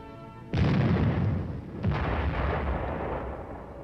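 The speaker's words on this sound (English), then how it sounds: "The M48, or Patton tank, also has a 90mm gun." The 90mm gun of an M48 Patton tank fires twice, each shot a loud, sharp blast followed by a rolling rumble that decays slowly.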